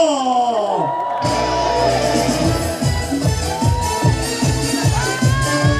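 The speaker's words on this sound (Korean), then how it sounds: "박수와 함성!" A crowd at an outdoor trot concert stage, the Bonghwa North Gyeongbuk farm successors' event, cheers, whoops and yells loudly, with clapping and a rhythmic beat of music rising beneath.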